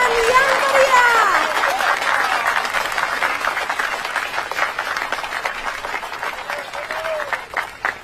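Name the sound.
audience applause at a birthday celebration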